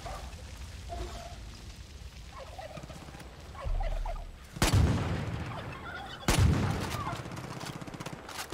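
Two loud, sharp shotgun blasts in Far Cry 5, aimed at a turkey and spaced about a second and a half apart, following a gobbling turkey call in the outdoor game ambience.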